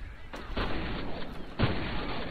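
Two or three booming blasts from the game F.E.A.R. Extraction Point erupt over a steady rumbling battle din, the last one sharp and loud near the end.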